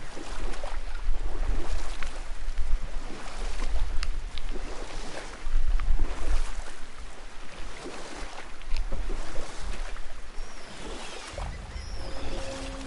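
Oars pulling a small boat across water in God of War, a steady wash of water and wind with rhythmic surges of strokes, no voices.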